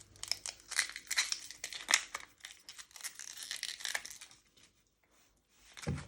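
The dry, papery skin is peeled off an onion up close, giving crisp crinkling and tearing rustles in irregular bursts, quiet overall, with a brief pause near the end.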